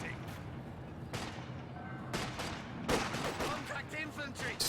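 Artillery strike in the video game Company of Heroes 2 brings a string of sharp booming impacts and crackling blasts over dense battle noise, with a voice talking over the gunfire.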